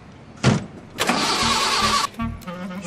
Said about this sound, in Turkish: Çalıştır şunu, gidelim Ekrem.